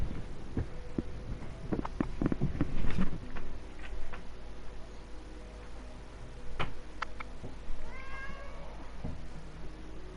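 An orange eight-month-old cat meows up close, one drawn-out wavering meow standing out near the end, over a low throbbing hum and scattered soft knocks and rustles.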